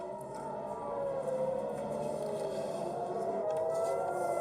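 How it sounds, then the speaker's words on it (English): An air raid siren wails across central Israel as missiles are detected, a sustained rising and falling tone heard at a distance, steady and moderately loud with no voices. "sirens sounded across central Israel and Tel Aviv after the Israeli military detected missiles launched from Iran"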